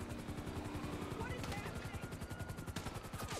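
Rapid automatic gunfire from a helicopter in Grand Theft Auto V rattles continuously in a fast, steady rhythm, loud and close, with game-like combat noise behind it.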